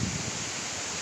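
Steady broadband wind gusting outdoors ahead of a severe thunderstorm rolling through Van Buren County, Michigan, a continuous rushing roar with no pauses or voices.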